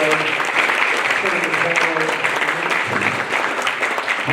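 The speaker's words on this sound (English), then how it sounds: "Give a round of applause." Sustained applause from a seated audience at a Rotary Club luncheon, steady and fairly loud throughout with a few voices mixed in.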